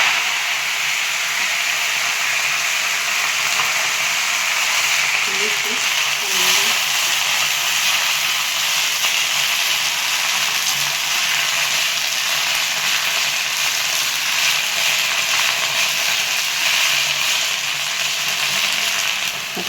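Green chickpea vegetable frying in hot oil with garlic tempering gives off a loud, steady sizzle and hiss that runs unbroken throughout, close to the microphone.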